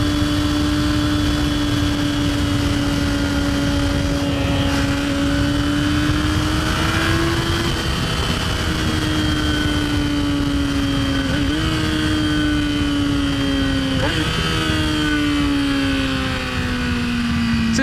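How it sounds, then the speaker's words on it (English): A 600cc sport motorcycle engine with full exhaust drones steadily with a deep, throaty note, rising and dipping slightly as the revs shift, loud and continuous throughout. "This is one of the most exciting engines in motorcycling, man. What a great sound."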